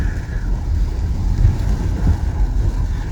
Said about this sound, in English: The whole of the road is covered in flowing water.